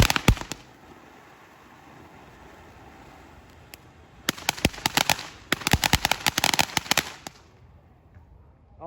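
TNT-brand consumer fireworks going off outdoors: rapid clusters of sharp cracks and pops in dense bursts, with a few isolated bangs between quieter gaps, loud and close.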